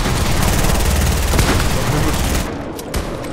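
Rapid SMG gunfire from the video game Fortnite rattles loud and continuous across the span, a dense burst of shots that drops away near the end.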